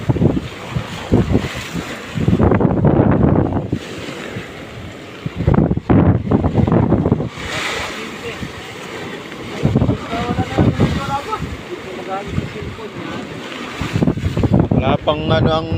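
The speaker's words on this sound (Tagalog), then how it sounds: "Laki ng alon." Big ocean waves crash and strong wind buffets the microphone near small boats pulled up on a shore, loud surging roars rising and falling in bursts, with a person speaking briefly between them.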